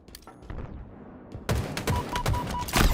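Sniper rifle shots in a competitive Halo match: a few hard, booming cracks at spaced intervals, loud and close, over busy game noise with no one talking.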